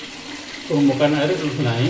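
Water flows into a tank fitted with an automatic level switch, a rushing, splashing pour starting partway through and continuing steadily, with someone speaking over it.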